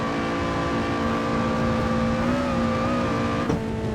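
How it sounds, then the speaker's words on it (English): A supercharged 1.8-litre Lotus Exige Scura in the racing game Assetto Corsa, lapping the Nordschleife, holds a loud, steady engine drone with a whining supercharger tone that climbs slightly under acceleration, with a brief bump near the end. "Things that I didn't mention about this car is that it has a supercharger, as you can probably hear."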